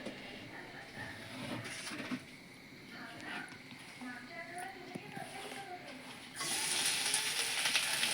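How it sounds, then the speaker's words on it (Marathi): Coconut and jaggery roast in two spoons of ghee in a kadai for modak filling, a steady frying sizzle that swells louder near the end, with a voice talking over it. "कारण आता आपण खोबरा आणि गूळ ह्याच्यात भाजून घेऊया मस्तपैकी"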